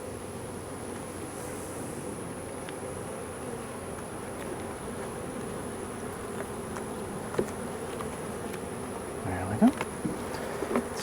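Honey bees hum steadily in an opened hive, a continuous low buzzing drone that fills the whole stretch, with a few brief louder knocks and clicks near the end.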